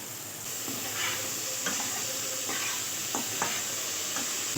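Pumpkin frying in a pan with panch phoron, sugar and chili, a steady close sizzle with a few soft scraping stirs of a spatula, no talking.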